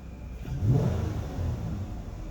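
A 2012 Chrysler Town & Country 3.6L engine, under random electrical loads, is snapped up from idle: a brief rising rev swell near the engine that then settles back, fairly quiet and with no talking.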